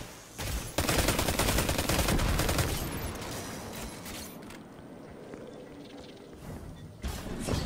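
Gunfire in Destiny 2 during a raid on the Glykon Volatus: a dense burst of rapid shots up close, then a tapering rumbling tail and scattered later bursts, with no talking.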